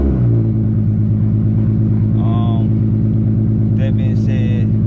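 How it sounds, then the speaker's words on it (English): A Nissan 370Z with its check engine light on runs at a steady idle, giving a loud, constant, close low drone with a few brief higher chirps over the top. "So I'm gonna crank the car up for you"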